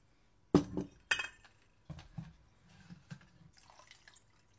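Fir branches rinsed in water at a sink, heard as a few close splashes and clinks of glass with dripping between them, against a quiet room.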